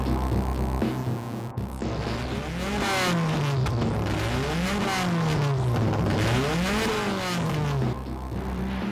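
A modified BMW M3 race car with a 100 mm widened body and weight-stripped chassis, driven hard. The engine roars steadily and close, its pitch sweeping up and down through repeated gear changes and throttle surges.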